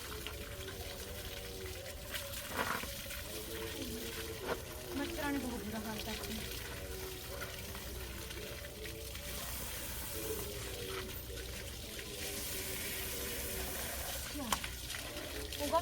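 Water from a pump motor flows steadily through a vegetable field planted with cauliflower, a continuous rushing gush beneath people talking.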